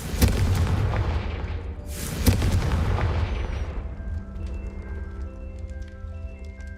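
A Confringo blasting spell goes off in Hogwarts Legacy, a loud booming blast near the start with a second heavy burst a couple of seconds later, its rumbling noise fading into a sustained low hum and scattered ringing tones.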